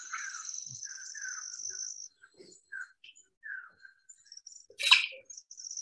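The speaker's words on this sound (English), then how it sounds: "It's called an orampendula, or a weaver bird." Oropendola weaver bird calling in the rainforest: repeated liquid, gurgling and whistled call notes over a steady high insect drone, ending in one loud burst near the close.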